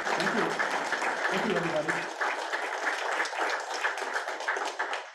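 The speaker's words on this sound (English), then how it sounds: "a big round of applause" A crowd applauds steadily, a dense wash of clapping that carries on throughout, with a few spoken words at the start.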